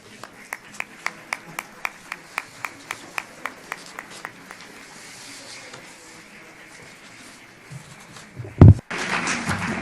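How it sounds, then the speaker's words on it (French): Audience applause after a cardinal's speech at a Congregation for the Clergy event: a steady run of single, evenly spaced claps, then a short thud and a denser burst of clapping near the end. "je pense que l'applaudissement montre bien que votre discours a été apprécié"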